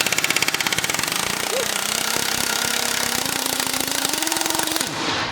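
Pneumatic impact gun hammering on a control arm bolt of a 2004 Volvo V70 R while a wrench holds the nut, a steady rapid rattling burst lasting several seconds, close and loud, with a brief voice in the background.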